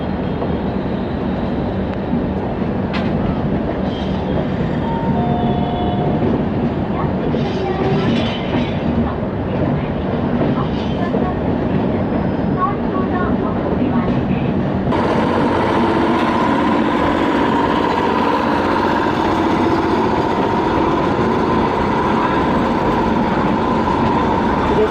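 The Bagh Express on Indian Railways rolling past on the line toward Kathgodam, a loud, continuous rumble of wheels and carriages that holds steady and then shifts brighter partway through, with no talk.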